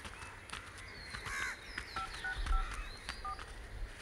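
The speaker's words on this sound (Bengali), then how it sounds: "এই তুমি মেরুসাকে ফোন কর, আমি জিনিয়াকে ফোন করি।" A quick series of short beeping telephone keypad tones, faint against outdoor background noise, with crows cawing in the distance.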